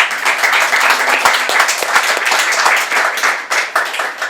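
Congregation in a church breaking into lively, dense applause, many hands clapping close and loud throughout.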